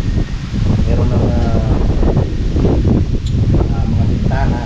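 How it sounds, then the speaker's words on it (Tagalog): Strong wind buffeting outdoors around a hut under construction, a loud continuous rumbling roar with microphone noise, while someone talks over it. "Lakas ng hangin."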